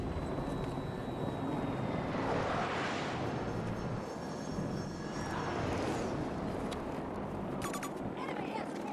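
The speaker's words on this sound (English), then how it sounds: "the guy in the helicopter going past" A helicopter passes overhead in an online shooter game, its broad engine roar swelling and fading twice over steady background noise, while players talk over it.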